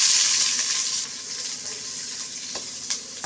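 Sliced big onions hit hot oil and fry, a bright hissing sizzle that is strongest at first and then settles into a softer, steady crackle with a few small pops.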